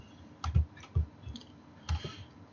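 A computer mouse gives a few soft, dry clicks at uneven intervals, close by against a quiet background with no talking.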